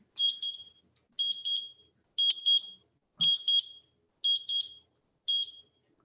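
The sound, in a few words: kitchen timer beeping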